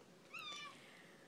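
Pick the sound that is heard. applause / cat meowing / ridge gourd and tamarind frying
cat meowing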